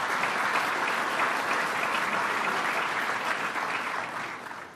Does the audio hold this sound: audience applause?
yes